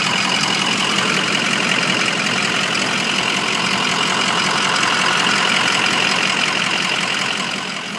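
A 2004 Ford F250 diesel 4x4 idles close by, a loud, steady, even engine drone with a rattling texture that holds constant before easing off slightly at the very end.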